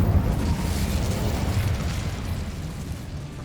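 A fire spell cast in the Hogwarts Legacy video game gives off a loud, steady roaring whoosh of flame, dense and rumbling throughout, fading slightly toward the end.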